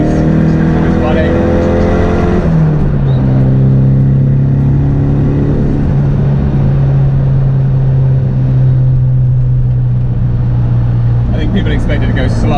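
A small turbocharged car cruises on a motorway with a loud, steady engine drone and road roar throughout, and a shift in engine pitch early on, while someone talks over it.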